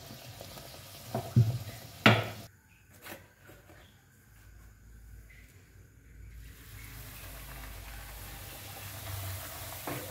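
Puris made from salted maida and wheat-flour dough fry in a pan, giving a quiet, steady sizzle with a couple of sharp stirring clinks early on.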